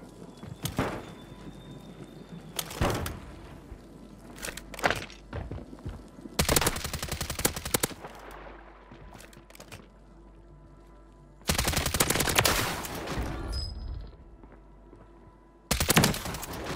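Bursts of automatic gunfire in the video game Warzone 3 on the Urzikstan map, several loud volleys of a few seconds each separated by quieter stretches with scattered single shots.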